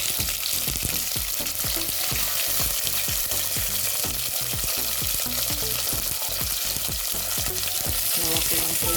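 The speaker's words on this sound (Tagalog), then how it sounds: "Breast chicken po ang luto nito" Chicken breast frying loudly in a pan, a dense continuous sizzle with quick rhythmic scraping and stirring clicks throughout, close up and with no talking.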